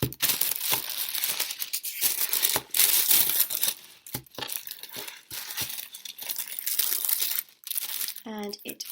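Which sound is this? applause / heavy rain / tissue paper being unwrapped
tissue paper being unwrapped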